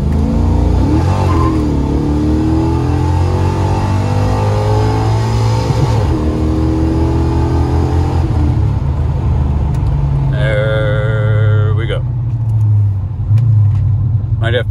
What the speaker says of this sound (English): what I want to do is just give it a full throttle run and pull into my driveway.